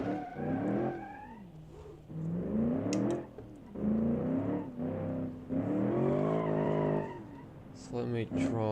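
A car in the BeamNG driving game drifts with an open differential, its engine revving up and down in long whining sweeps as the tires squeal, with someone talking over it.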